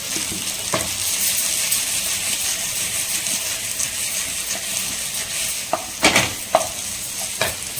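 Elephant foot yam fries and roasts in a pan with a steady, close sizzle, while a few sharp scrapes and taps of stirring break in near the end.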